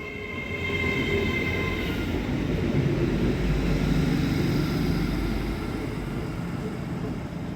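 A train rumbles through Northallerton station without stopping at steady volume, a low rolling roar of wheels on rails with some faint high whine, continuous for the whole stretch.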